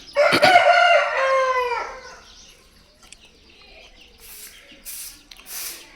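A rooster crows loudly and close by in one long, drawn-out call at a poultry farm, followed by quieter noises and a few short bursts of rustling.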